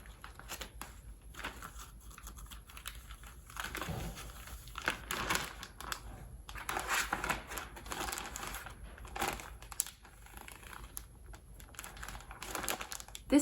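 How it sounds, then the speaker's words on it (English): Used gloves are stuffed into a plastic bag, producing a stretch of crinkling, rustling plastic with irregular soft crackles and taps, close and fairly quiet with no voices. "put them inside your plastic bag."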